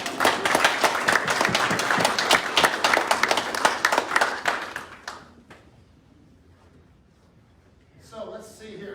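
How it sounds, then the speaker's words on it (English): Applause for officers receiving commendation bars at a police award ceremony, a dense, steady round of clapping from a room full of people that tapers off halfway through, followed by quiet and then a voice speaking. "Now you can clap, Mike"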